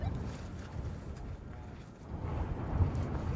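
Strong wind on the Merapi volcano buffeting the microphone in low, rumbling gusts that swell and ease, with a lull near the middle before it picks up again.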